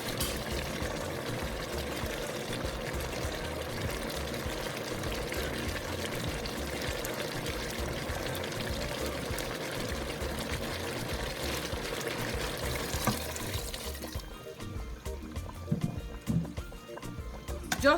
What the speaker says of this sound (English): I'm going to add some more water because I'm going to put my ukpo